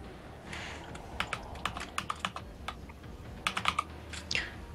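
Someone types rapidly on a computer keyboard during a StarCraft match commentary, with bursts of sharp clicky keystrokes in an irregular rhythm and no voices.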